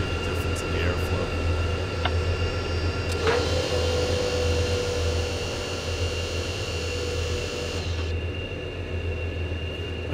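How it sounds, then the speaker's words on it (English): Twin jet engines of an F/A-18E Super Hornet in the FSX flight simulator run at a steady, droning hum with a high whine. Partway through, the closing canopy shifts and muffles the airflow tone. "Okay, so now both engines are almost started. And I'll close the canopy here and you'll hear the difference in the airflow."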